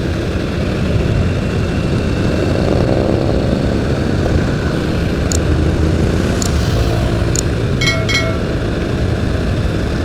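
A motorcycle cruises along a smooth road at around 40 to 50 km/h, its engine and wind noise making a loud, continuous roar with a few brief high clicks near the end.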